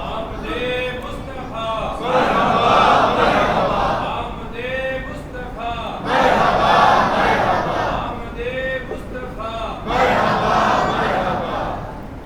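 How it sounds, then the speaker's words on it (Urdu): A large crowd at a Milad un Nabi procession chants religious slogans in loud, repeated call-and-response waves, swelling roughly every four seconds with voices between. "آپ سب بھی نعرے لگائے"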